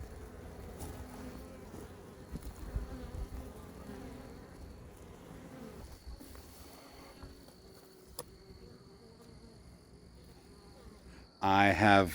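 Several honey bee hives at a home apiary give off a soft, continuous buzz of bees flying around. A voice talks over it for part of the time, and a louder burst of noise comes at the end.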